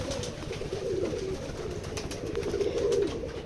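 Pigeons coo in low, throaty, rolling calls over steady background noise, several birds close by.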